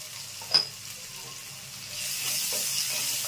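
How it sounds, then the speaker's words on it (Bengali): Potatoes frying with salt and turmeric in a pan, a soft steady sizzle with a brief sharp clink near the start, the hiss growing fuller and brighter in the second half, no voices. "দিয়ে আমি আলুটা ভেজে নেব।"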